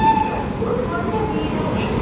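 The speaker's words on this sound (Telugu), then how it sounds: "సో మా ట్రైన్ అయితే వచ్చేసింది." The Machilipatnam to Yesvantpur Express pulls into a station with a moderate, steady rolling rumble and a brief tonal squeal or horn-like note near the start.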